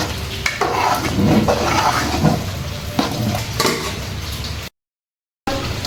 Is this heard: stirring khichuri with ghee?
yes